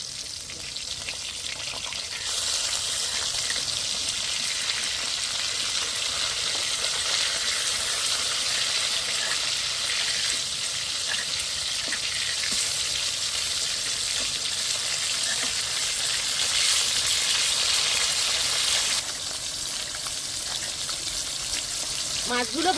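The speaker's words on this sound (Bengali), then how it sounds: "মাছগুলো ভাজা হয়ে গেছে" Rohu fish pieces frying in hot oil in a pan, a steady dense sizzle that holds at an even loudness throughout with faint clinks of stirring and no talking.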